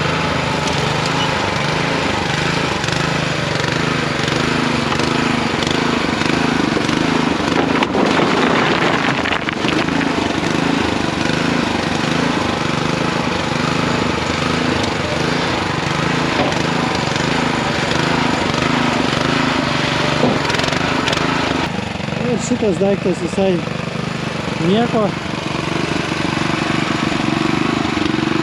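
An old Honda engine of the kind fitted to water pumps runs steadily on a soft-tyred farm buggy in the fields, a continuous mower-like chugging that stays loud and close throughout, with someone briefly talking over it.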